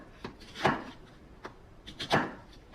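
A knife cuts small onions into pieces on a board, a few crisp chops in an uneven rhythm, close and fairly quiet with no talk.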